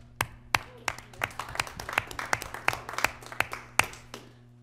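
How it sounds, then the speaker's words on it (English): Hand clapping at a Town of Snowmass town council meeting: a dozen or so crisp, evenly spaced claps from a small number of people, fairly close, over a low electrical hum with no talking. "I clapped too early."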